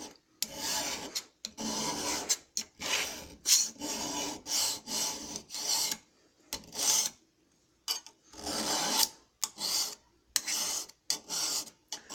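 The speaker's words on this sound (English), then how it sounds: "Hold the blade up here. Scrape at it with a file." A steel file rasps across a knife blade in a series of close, steady strokes with short pauses between them, with no talking.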